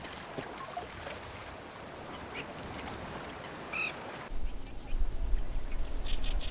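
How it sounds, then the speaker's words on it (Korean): A Eurasian coot gives a brief nasal call in the reeds of an artificial wetland in the upper Sihwa Lake area. Soft water and ambient wetland noise surround it, with narration running over the scene. "물에 살면서 생김새는 닭을 닮은 물닭"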